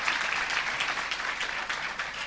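A church congregation applauds during an Indonesian sermon, giving steady, dense clapping that fills the whole moment with no voice over it.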